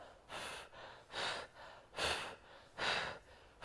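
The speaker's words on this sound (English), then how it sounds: "so you're just breathing out every time" Repeated forceful exhales through the nose and mouth during an oblique bodyweight exercise on a mat, five puffs in a steady rhythm, close and fairly quiet.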